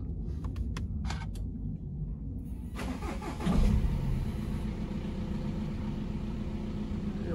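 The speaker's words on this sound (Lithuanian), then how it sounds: "pradedam šį kartą nuo variklio užvedimo, nes mašina ilgai stovėjo, variklis nekurtas" A VW Passat with a 2.0-litre 110 kW diesel and 191,000 km cranks and catches after standing unused for a long time, then settles into a steady, close diesel idle with no talk.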